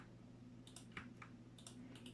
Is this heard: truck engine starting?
no